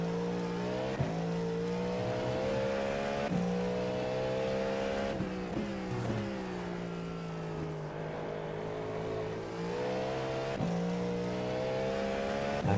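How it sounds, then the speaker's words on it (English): Cadillac GTP LMDH prototype race car in iRacing at Daytona, its engine droning loud and steady throughout, with a few brief dips and shifts in pitch as it changes gear, close and continuous with no talking. "this is the Cadillac GTP. Or the Cadillac LMDH."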